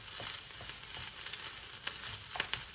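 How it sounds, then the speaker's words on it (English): Cooked food in a frying pan being stirred, a soft, continuous sizzle broken by scattered light scrapes and clicks of the utensil, fairly faint throughout. "I'll stir this for about another few minutes"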